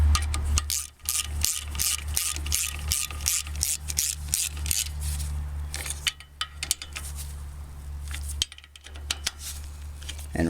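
Bolts are snugged up on a Bolens engine, threading into aluminum with a quick series of close ratcheting clicks and scraping metal strokes over a low steady hum.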